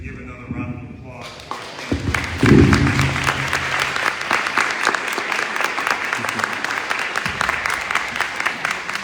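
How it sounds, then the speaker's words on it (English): A crowd at a public community event bursts into applause after a brief stretch of speech, the clapping rising quickly and continuing densely and steadily to the end, with a few thumps mixed in. "We can just give another round of applause."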